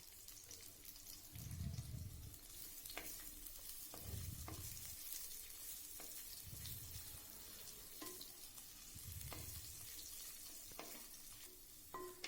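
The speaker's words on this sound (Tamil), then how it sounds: "எண்ணெய் ஹீட் ஆனதுக்கப்புறம் இந்த ரஃபாக கட் பண்ணி வச்சுருக்கிற பெரிய வெங்காயத்தை அது கூட சேர்த்துருங்க பெரிய வெங்காயம் சேர்த்ததுக்கப்புறம் நல்லா வணக்கி விடுங்க" Roughly cut large onions sauté in hot oil for tomato kara chutney, a faint steady sizzle with soft rhythmic stirring scrapes recurring every couple of seconds.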